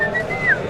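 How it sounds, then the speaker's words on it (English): A short whistled note, a single rising and sliding tone, rings out clearly during a Warhammer 40k tournament game, with faint room noise behind it. "Who's whistling?"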